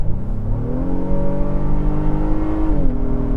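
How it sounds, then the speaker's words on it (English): Engine of a Honda Pilot TrailSport SUV revving in sport mode, a steady, loud drone rising slightly in pitch and then settling, heard close from inside the cabin with no talking. "A little more engine noise, so I think it is actually augmented."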